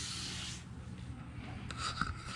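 Hand sanding along the edges of a boat hull during paint prep gives a steady, close scratchy rubbing that continues without a break.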